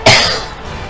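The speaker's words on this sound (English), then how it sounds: "Sorry for coughing." A single sharp, loud cough bursts out close to the microphone, then trails off quickly into quiet room tone.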